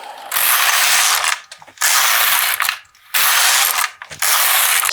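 A knitting machine carriage is pushed back and forth across the needle bed knitting rows, giving four loud rasping mechanical sweeps separated by brief pauses.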